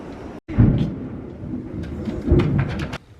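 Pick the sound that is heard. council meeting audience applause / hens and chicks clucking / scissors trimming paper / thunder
thunder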